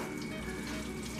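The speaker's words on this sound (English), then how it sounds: "that is the noise of the oil getting ready" Oil heating in a pan before frying chicken cordon bleu, a steady hissing sizzle that holds even and continuous throughout, fairly close with no talking.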